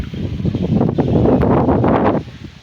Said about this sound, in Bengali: ও সেই সুন্দর বাতাস